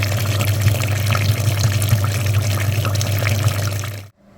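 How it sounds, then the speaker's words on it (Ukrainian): Water flushing through the heater radiator of a Dacia Logan during a cooling system flush, a loud steady rushing flow with a low hum that stops abruptly at the end. "Підходить вже до кінця промивочка радіатора пічки"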